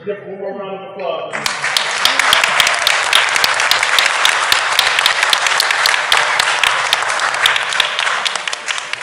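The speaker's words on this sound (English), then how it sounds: "Give one more round of applause." Sustained round of applause from the audience at a village board meeting, loud, dense clapping that starts abruptly after a brief spoken moment and continues steadily to the end.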